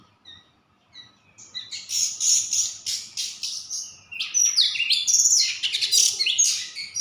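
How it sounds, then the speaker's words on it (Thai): A small bird chirps in a quiet village setting, with bright, close, rapid tweets that begin sparse and build into a dense, continuous song with short pauses. "อันนี้นกอีหยังน้อเนี่ย"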